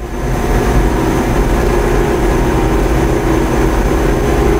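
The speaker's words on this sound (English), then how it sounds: "clean the pump button to pump down the chamber" A vacuum pump pumps down an atomic layer deposition chamber with a loud, steady, close mechanical drone and low rumble, unbroken throughout with a faint high whine above, no voices.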